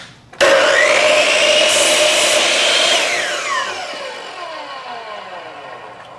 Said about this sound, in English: slide our piece of wood down just slightly and make a quick